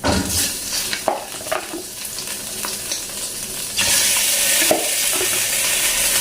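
Chicken hits hot desi ghee with garlic and bursts into loud, close sizzling and frying hiss, with stirring scrapes and clanks of a pan; the sizzle swells and stays bright toward the end.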